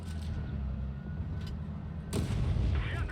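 Heavy tank cannon shots boom in World of Tanks Blitz, a KPZ 50t against a Grille 15, with a deep rumbling low-end bed and a sharp blast near the end.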